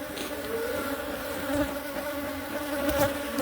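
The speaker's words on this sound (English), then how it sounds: "I'm working at the bees and boy them wassy." Bees swarm around beehives in a dense, continuous buzzing drone, close and steady with slight swells in loudness as insects pass near, and no voices.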